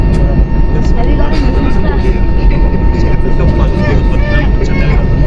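Airliner engine roar on the runway before a Chennai to Kuala Lumpur flight, a loud, steady, broadband rumble heard from inside the cabin, continuous throughout with no break.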